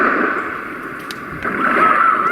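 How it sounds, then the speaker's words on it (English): Ocean waves crashing on a white noise machine, a steady broad surf roar with gentle swells in level and a faint hissing wash, heard alone. "The waves are crashing."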